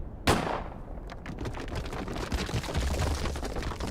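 A single sharp rifle gunshot in the video game The Third Wish, set in a desert, cracks loudly near the start and then rolls into a long echoing rumble, followed by scattered debris and crackling sounds.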